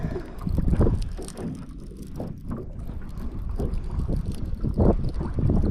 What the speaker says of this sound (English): Man, this wind's bad.